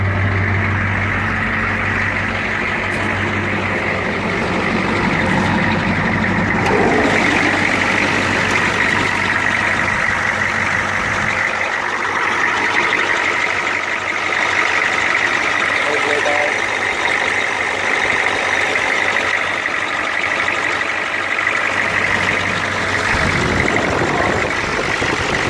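A 1983 Ford 6.9 diesel truck with Banks exhaust idles steadily after a cold start, a continuous low rumble with clatter running throughout, while a person talks over it.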